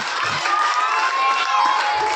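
Audience of children at a National Science Day school event, shouting and cheering together in a dense, loud, sustained roar with a high-pitched squeal cutting through.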